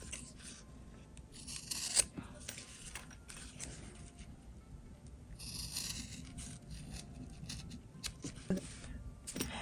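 Scissors snip and rasp through fabric in short, close cuts beside a zipper while sewing a bag, with quiet gaps and soft handling noise between strokes.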